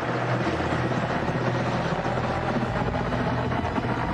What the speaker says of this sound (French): C'est quoi cet hélicoptère?